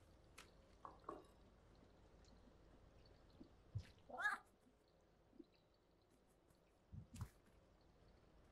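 A cat in the video game Stray gives a few scattered, soft meows and small thumps and rustles amid quiet gaps, faint and intermittent with no talking over it.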